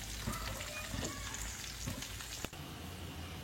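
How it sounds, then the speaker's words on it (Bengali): Cauliflower pieces frying in a pan for khichuri, a steady close sizzle with faint crackles and a few light clinks, no talking over it. "ফুলকপি দেবো ওই জন্য একটু ভেজে নিচ্ছি খিচুড়িটাতে"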